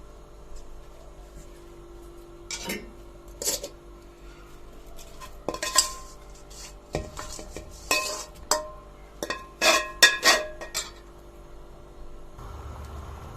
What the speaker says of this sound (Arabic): ابتدي بقى اقلب كويس جدا